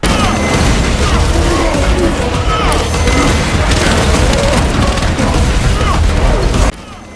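Loud, dense Hydra rocket explosions and booming impacts from a Thousand Sons Terminator attack in Space Marine 2, a continuous barrage of blasts and crashes that cuts off sharply near the end.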